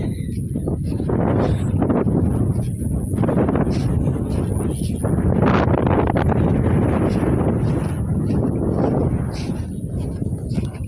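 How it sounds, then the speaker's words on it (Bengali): Wind gusts steadily across open ground in a Bangladeshi village, buffeting the microphone with a loud, low roar that swells and eases for about eleven seconds. "বাতাসের শোন শব্দ"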